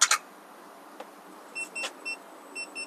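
Anti-theft alarm of a Xiaomi Mi 2 Pro electric scooter, locked and being moved, gives a short series of high electronic beeps in a quick irregular rhythm after a brief clatter, fairly faint with no talking.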